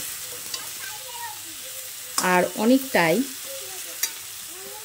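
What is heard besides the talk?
tomatoes and green chillies frying with drumsticks and potato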